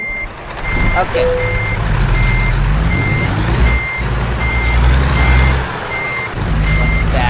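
A truck in American Truck Simulator backs out with steady, evenly spaced reversing beeps over a loud low engine rumble, with a brief spoken word mixed in.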